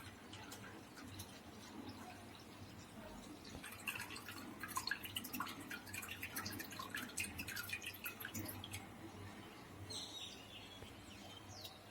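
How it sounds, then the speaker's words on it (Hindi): Water is slowly poured off settled wheat dough batter for papad into another vessel, giving a faint trickling and dripping under a quiet background, with a few light chirps mixed in. "अभी हम दूसरा बर्तन लेंगे और धीरे धीरे करके ये ऊपर वाला पानी निकालेंगे।"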